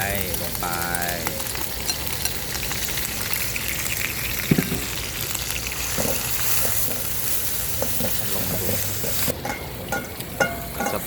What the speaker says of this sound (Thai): ผัดให้เหลืองเลยนะ ให้หอม